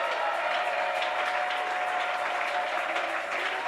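Church congregation applauding and cheering in praise of God during a French-language sermon, steady sustained clapping filling the hall throughout, loud and continuous.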